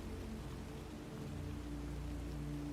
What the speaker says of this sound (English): it's raining. Not a heavy storm, but a soft, persistent drizzle that has been falling all day